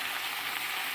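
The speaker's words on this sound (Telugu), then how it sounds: "దోసకాయ ముక్కలు, ఒకసారి మొత్తం అంతా కలిసేటట్టుగా కలుపుకొని" Cucumber pieces sizzling in a pan for a village-style dosakaya tomato pachadi make a dense, even frying hiss that holds steady through a brief moment, with no talking.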